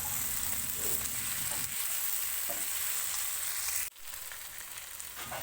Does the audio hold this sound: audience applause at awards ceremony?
no